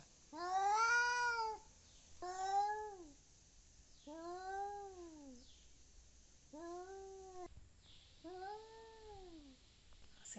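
An angry cat yowls in a series of five long, drawn-out wails with short pauses between them, close and loud, with no talking.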